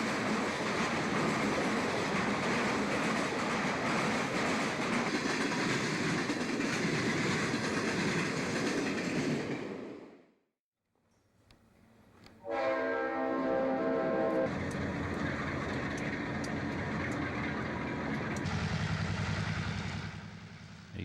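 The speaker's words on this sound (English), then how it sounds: "This southbound Chicago subtrain is crossing the Toledo, Peoria, and Western in Watseka," Southbound Chicago train crossing the Toledo, Peoria and Western tracks in Watseka, Illinois: loud steady rumble and clickety-clack of railcars, a brief near-silent gap, then the rolling clatter and a horn-like tonal drone resume close by.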